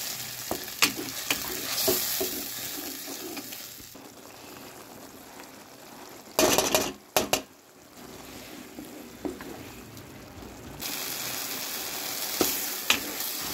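Onion, spice paste, chopped tomato, salt and a fried spice mix sizzle steadily in a pan for ghugni, with spoon scrapes and a burst of loud stirring partway through and no talk.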